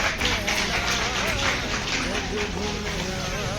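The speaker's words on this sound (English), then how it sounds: "Let us once again honor them with a big round of applause" An audience at a school retirement ceremony applauds four retiring teachers, a thick, continuous wash of clapping that runs the whole time with voices carrying over it.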